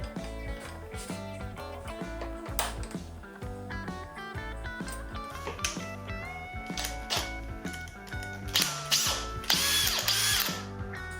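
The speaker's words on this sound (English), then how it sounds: "This clamping mechanism is one of the reasons why I like the K5 so much." Kreg K5 pocket hole jig's clamping mechanism ratcheting, a steady run of close, loud mechanical clicks and clunks with rhythmic pulses throughout, and a brighter burst of metallic clatter near the end.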